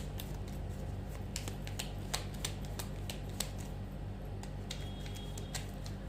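Tarot cards being shuffled by hand, a run of quick crisp flicks and snaps recurring at an irregular rhythm over a low steady hum, close and quiet, with no talking.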